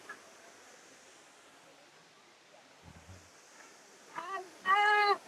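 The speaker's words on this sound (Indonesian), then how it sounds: "Air terjun ya." Curug Kondang waterfall on Mount Halimun Salak near Bogor: a steady, soft rushing roar of falling water heard from nearby, with a person speaking briefly over it near the end.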